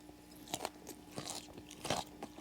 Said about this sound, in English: I get that salty crunch from the chickpeas and the cabbage